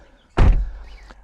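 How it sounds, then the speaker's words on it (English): A 2025 Toyota Camry XSE Hybrid sedan door swings shut with a single solid, close thunk, followed by a brief faint rattle as it settles. "Let's do door check."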